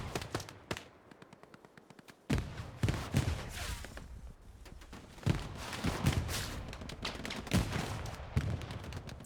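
Gunfire in the World War II shooter Hell Let Loose on a D-Day map: rapid bursts of rifle and machine-gun fire mixed with sharper single shots, some close and loud and others more distant, continuing almost without pause.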